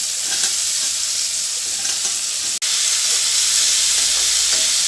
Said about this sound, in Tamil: கொஞ்ச நேரம் நம்ம குடமிளகாய் சேர்த்து வதக்குனா போதும்